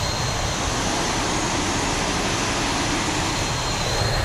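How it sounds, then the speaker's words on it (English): A Boeing 737 jet engine in the X-Plane 11 flight simulator, with the ZIBO mod and an add-on sound pack, heard as a loud, steady, broadband roar that holds unchanged throughout with no voices over it. "The engine sound is too loud"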